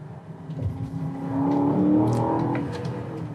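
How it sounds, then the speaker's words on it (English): A 550-horsepower V8 car engine revs and accelerates briefly, a throaty rising roar heard from inside or close by, with no talking. "that V8 is intoxicating"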